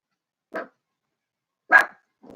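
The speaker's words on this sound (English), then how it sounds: "That's my dog." A pet dog barks twice, sharp single woofs about a second apart in an otherwise quiet room, followed by a softer third sound at the end.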